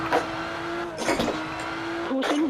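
A Porsche 911 GT3 rally car engine in WRC Generations drones at a steady tone, then its pitch dips and rises with a couple of sharp revving bursts from clutch kicks, loud and close with no talk.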